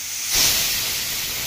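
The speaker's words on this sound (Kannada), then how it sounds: "ಈಗ ಕುಕ್ಕರ್ ಮುಚ್ಚಳ ಹಾಕಿ 1 ವಿಜಿಲ್ ಬಂದರೆ ಸಾಕು" Steam hisses from a pressure cooker whistle as biryani cooks, a loud, steady spray of steam that swells sharply near the start and then holds as a continuous airy hiss with no voices.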